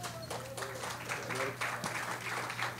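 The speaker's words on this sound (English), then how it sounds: "We have to applaud them." Faint, brief applause from an audience at an Andrea Doria anniversary commemoration, a soft patter of clapping over a low steady hum.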